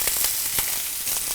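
Chicken breast sizzles in a hot pan, a steady bright hiss with faint crackles throughout, close and alone.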